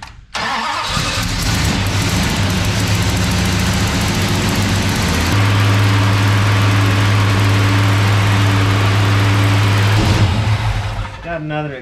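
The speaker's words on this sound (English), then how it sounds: "We're gonna fire it up here again in a minute and see." A Dodge Coronet with a leaking exhaust fires up and settles into a loud, steady idle, the engine noise filling the clip close to the microphone before cutting off near the end.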